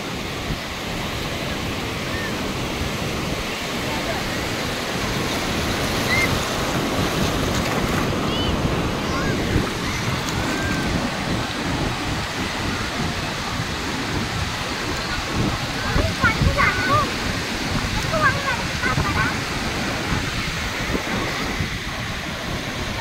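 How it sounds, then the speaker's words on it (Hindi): Ocean waves surge and wash up the shore at Colva beach in Goa, a steady rushing surf with wind buffeting the microphone, rising in swells as the water runs over the sand. "ये देखिए लहरें हमारे पैरों का स्वागत करने के लिए आ रही है।"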